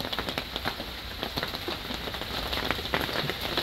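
Heavy rain pours down around a house, a dense steady patter of drops drumming on surfaces with sharp crackling hits, close and unbroken, with no voices.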